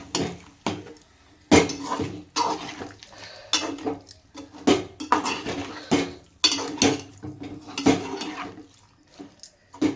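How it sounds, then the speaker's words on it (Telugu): Repeated clanking and scraping of a spoon against a metal pot while stirring a brinjal, drumstick and dried prawn curry after adding water, irregular strokes close by, with quiet gaps between them. "ఒక చిన్న గ్లాసు వాటర్ వేసి ఇప్పుడు ఒకసారి కలిపి"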